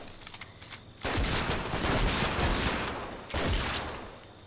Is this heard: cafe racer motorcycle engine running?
no